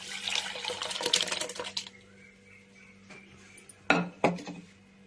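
Diluted moong dal splashes into a pot of onions and tomatoes as a steady, close pour. The pour fades after a couple of seconds, followed by a few sharp metallic clinks of a vessel.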